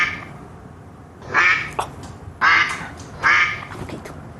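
Three loud, nasal duck quacks spaced about a second apart, close and clear against a quiet background.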